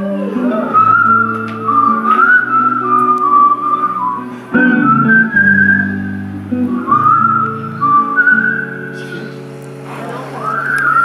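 Man whistling a melody at a live concert in Bègles, loud and clear with sustained, sliding notes in several phrases over a soft musical backing.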